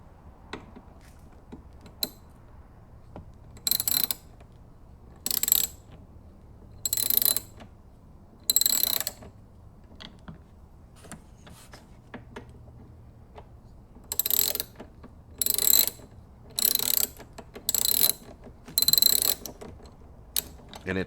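Socket ratchet clicking in repeated short bursts while loosening Torx screws on a Ford Mustang Mach-E during a rear pony light install, each burst of rapid pawl clicks separated by pauses, close and fairly clear over a quiet background.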